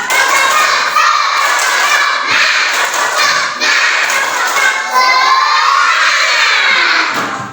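Schoolchildren in a classroom performing a rhythmic clapping chant together, loud and close, with shouted voices and sharp claps repeating in bursts across the whole stretch.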